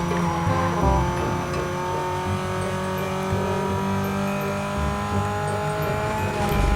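Chevrolet Cobalt SS racing in the video game NFS Most Wanted, its engine droning and revving steadily with brief tire squeals, loud and continuous without speech.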